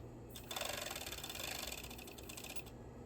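A sewing machine stitching a shoulder seam on a women's knit T-shirt, a quiet, rapid buzzing run of needle strokes lasting about two seconds, close by and alone.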